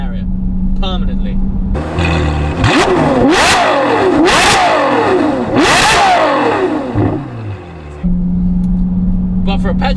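A Ferrari F12 V12 engine revs hard in loud, repeated sweeping bursts, each climbing sharply and falling back, between stretches of steady idle at the start and end.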